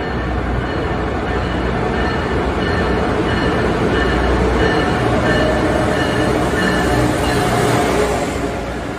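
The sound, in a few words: train arriving at station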